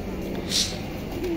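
A single soft pigeon coo rises briefly amid quiet crowd murmur in the courtyard of the Hazrat Shah Jalal shrine in Sylhet.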